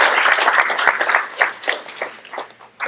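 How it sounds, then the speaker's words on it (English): An art gallery audience claps for the panelists, a modest close-up round of applause from a small crowd with individual hand claps audible, irregular and tapering off. "Now let's give them a round of applause."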